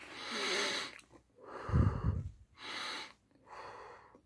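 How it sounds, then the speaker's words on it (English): Slow, audible breaths during a hospital ER physical exam: air drawn in through the nose, then pushed out through the mouth, close and fairly soft, repeating in an even cycle with no talking. "I need you to breathe through your nose and exhale through your mouth"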